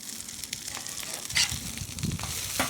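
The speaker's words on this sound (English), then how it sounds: "And putting down the hamburger steaks." Hamburger steaks frying in a hot pan for a Salisbury steak sandwich, giving a steady close crackling sizzle with brief louder bursts of spattering and no voices.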